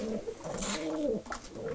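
Racing pigeons coo in a loft, a soft, throaty, rolling call repeated in a couple of short phrases, close and clear with faint background rustle.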